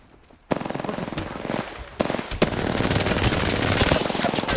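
Gunfire in the video game Apex Legends: a rapid automatic burst, a short pause, then sustained dense firing that grows louder toward the end.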